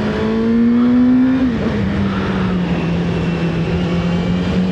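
A ZXJC 500RR motorcycle engine revs steadily while being ridden, climbing in pitch before a quick drop as it shifts gear, then holding a strong, close drone.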